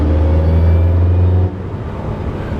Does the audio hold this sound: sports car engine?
yes